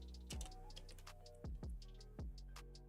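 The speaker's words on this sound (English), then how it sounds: "let's just type in MATIC" Sharp, close keystrokes on a computer keyboard, a few separate taps and short bursts spread irregularly over a few seconds in a quiet room.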